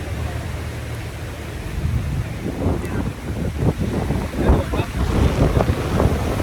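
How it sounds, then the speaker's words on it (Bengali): Sea waves roaring at a Port Dickson beach in Malaysia under strong wind, with heavy wind buffeting the microphone and surf surging louder toward the end. "হাতে কফি আর সমুদ্রের গর্জন"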